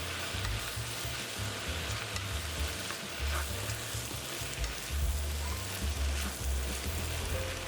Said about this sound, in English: Add the rice noodles. Add our sauce. We can then toss.